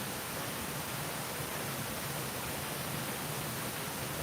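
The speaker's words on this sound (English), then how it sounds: "right down here at the waterfall" A rushing waterfall, with ghost stories told there, gives a steady, dense broadband roar that holds constant throughout, close and full, with no voices.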